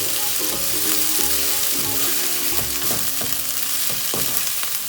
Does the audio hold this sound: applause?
no